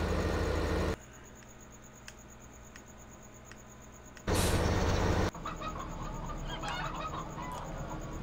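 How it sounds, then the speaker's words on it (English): Chickens in the Farming Simulator 2015 game, steady clucking from the flock under a constant droning game ambience that cuts in and out abruptly, no talking. "so here we are at the chickens"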